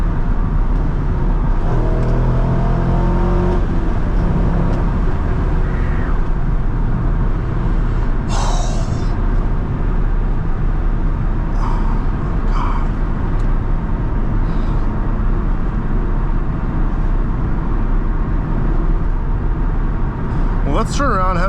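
A 2000 Chevrolet Corvette C5 on a road drive, heard from the cabin as a steady, loud engine drone that builds as it accelerates, with someone talking over it.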